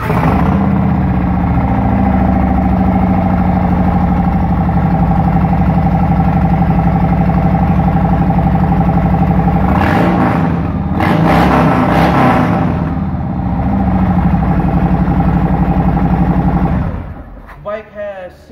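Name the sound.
Harley-Davidson Sport Glide motorcycle engine starting and idling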